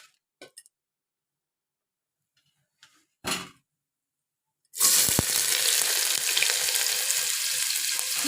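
Chopped onions hit a hot pan of oil already holding cinnamon and cardamom, bursting into a loud, steady sizzle after a few scattered clinks and knocks of utensils, continuing unbroken to the end.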